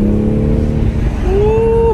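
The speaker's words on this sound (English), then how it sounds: "You add a little intake and you hear those turbo swooshes" A turbocharged car engine with an aftermarket intake revs loudly up close, then eases off as a rising turbo whistling whoosh sweeps upward over the engine note.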